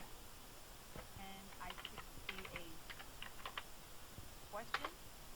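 Keys tapped on a computer keyboard while writing a typed reply, scattered soft clicks in short bursts, fairly quiet, with faint low background noise and no talk.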